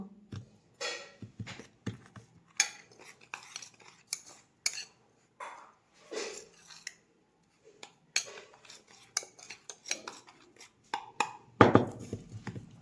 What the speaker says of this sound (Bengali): এর মধ্যে একটু হলুদ মিলিয়ে নেব